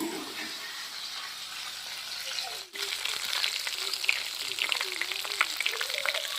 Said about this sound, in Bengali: আমি একই রকমভাবে বাকিগুলো ভেজে নেব